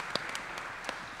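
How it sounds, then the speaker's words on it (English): An audience at a policy panel discussion applauds a speaker, a short, faint, steady patter of clapping hands with a few sharper claps standing out. "Are we going to clap for Carlo too?"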